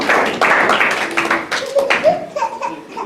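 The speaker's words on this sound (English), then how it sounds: "Please clap for that." Church congregation applauding during a sermon: a burst of clapping mixed with scattered laughter and murmured voices, fairly close and lively, fading off toward the end.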